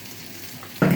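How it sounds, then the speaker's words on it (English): Taco salad ingredients stirred in an oiled pan, a brief burst of sizzling and scraping that starts suddenly near the end after a quiet stretch. "Now we stir it around, stir it around"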